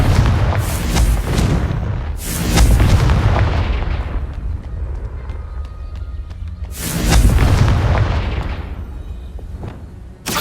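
Confringo blast spells from the video game Hogwarts Legacy, three loud booming explosions with rumbling decay, the strongest near the start and another about two-thirds through, over a steady game ambience.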